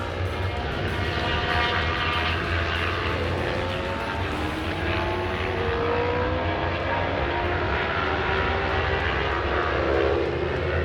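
Race cars circling the Phillip Island circuit during a practice session, a steady, dense roar of engines carrying from a distance without a break, loud and continuous with no talking.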